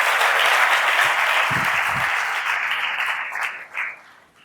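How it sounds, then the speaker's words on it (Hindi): An audience bursts into loud applause, a dense, steady clapping that gradually thins and fades out with a few last scattered claps. "एक बार मैं आप सबसे चाहूँगा कि इनका जोरदार तालियों से आप स्वागत करें।"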